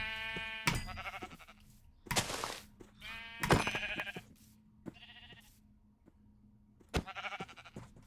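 A pink sheep in a Minecraft-style video game bleats repeatedly, several wavering baas spaced a second or two apart, loud and close, with quiet gaps and small clicks between them.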